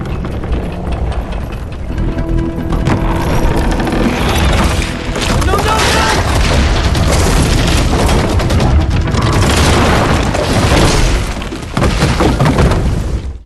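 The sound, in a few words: shotgun gunfire against pirates in Far Cry 3 video game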